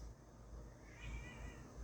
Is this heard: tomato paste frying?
no